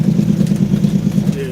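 A truck's Jake brake rattles steadily with a rapid, even low-pitched pulsing that holds at a loud level throughout, with a voice speaking over it.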